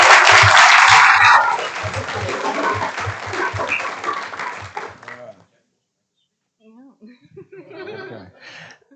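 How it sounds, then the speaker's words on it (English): Audience applause at a city council meeting bursts out loud and dense, then thins and fades out after about five seconds. A few scattered claps and murmurs follow after a brief silence. "Let's give her a round of applause."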